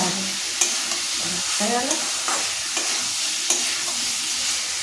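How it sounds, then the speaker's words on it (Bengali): Spice masala frying with paneer in a pan, a close, constant sizzle with a few scraping stirs, and a brief spoken remark in the middle. "আমি পনিরটা দিয়ে এরকম মশলাটা ভাজা ভাজা করছি"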